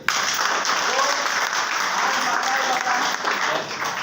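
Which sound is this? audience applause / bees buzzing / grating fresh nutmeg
audience applause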